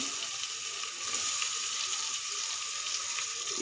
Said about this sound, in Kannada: ಈರುಳ್ಳಿ ಸ್ವಲ್ಪ ಕಲರ್ ಕೆಂಪಾಗುವಂತ ಹುರ್ಕೋಬೇಕು